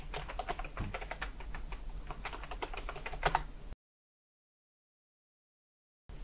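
Fingers type a router password on a computer keyboard, giving a quick, close run of light key clicks for a few seconds, then silence with no talking.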